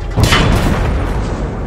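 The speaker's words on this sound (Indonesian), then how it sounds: "Dua kali tembakan." A tank cannon fires in the war video game Battlefield 4: a sharp, loud boom strikes early, then a long rumbling roar trails off under it, and nobody speaks.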